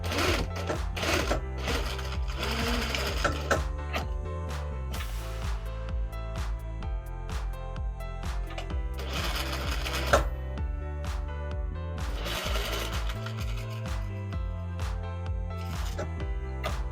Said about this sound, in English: we're going to finish the bottom piece by just stitching from the edge here to the first notch, and then this notch to the very end